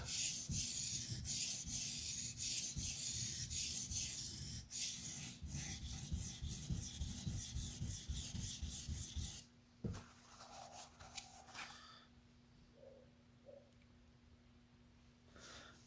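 A TRM Atom knife bevel is sharpened freehand, with a steady run of near, rasping strokes for about nine seconds before it stops, followed by quieter scattered handling sounds.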